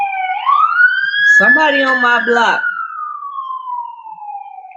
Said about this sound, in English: Y'all hear the ambulance?